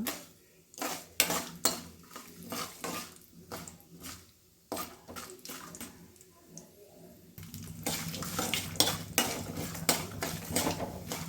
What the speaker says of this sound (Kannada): ಕಡಲೆ ಬೀಜ ಸ್ವಲ್ಪ ಎಣ್ಣೆಯಲ್ಲಿ ಕೈ ಆಡಬೇಕು